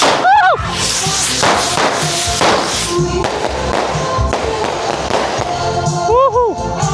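Fireworks and firecrackers burst around a neighborhood on New Year's Eve in the Philippines, sharp cracks and whistling rockets going off repeatedly, some near and loud, with people cheering in the background.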